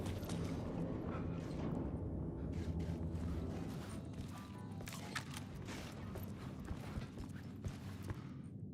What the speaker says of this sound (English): The elevator would take me there.